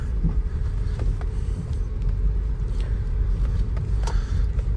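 A Peugeot 3008 or Nissan Qashqai rolls over a rough road where there is no real pavement, giving a continuous low rumble of tyres and engine inside the cabin with scattered knocks and rattles from the suspension.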